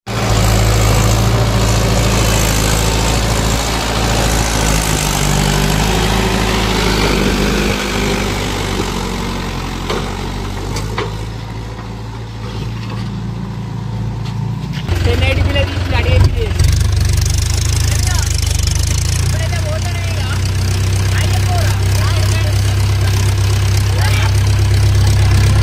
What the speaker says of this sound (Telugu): నేను ట్రాక్టర్ నడుపుకుంటా